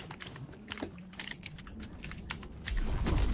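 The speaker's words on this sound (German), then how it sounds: "das Tastatur ist auch lauter wie, wie meine Stimme schon wieder" Loud, clattery computer keyboard typing during a Fortnite gaming session, with irregular bursts of sharp key strikes close to the microphone, ending in heavier rumbling thumps.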